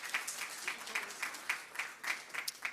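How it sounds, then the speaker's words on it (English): An audience at a university awards ceremony gives a final round of applause for undergraduate award winners, faint and distant, with sparse distinct claps in a loose rhythm. "So one last round of applause for all of our undergraduate Dean's Achievement Award winners."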